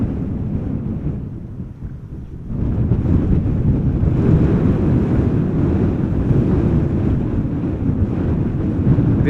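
A Boeing 777 with General Electric GE90 engines departs Amsterdam Schiphol, its low rumbling roar stepping up sharply after a quieter opening and then holding loud and steady, mixed with wind buffeting on the microphone.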